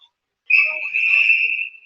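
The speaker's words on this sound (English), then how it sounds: "whistle." A referee's whistle at a boys' varsity ice hockey game gives one sustained shrill blast lasting over a second, loud and clear, starting after a brief silence.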